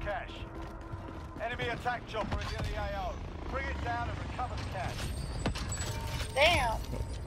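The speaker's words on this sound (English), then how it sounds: "Attack chopper in the AO. Bring it down and recover the cash." Attack helicopter in the video game Call of Duty Warzone, a steady rotor drone running throughout beneath gunfire, game effects and players talking.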